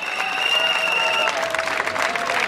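Applause from a race crowd greeting the winner of a half marathon, the Alba Running, steady dense clapping held close and loud throughout, with a faint voice over the top.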